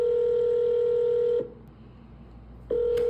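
Steady single-pitch phone tone while placing a call, sounding for over a second, then a gap of about a second and a half before it returns.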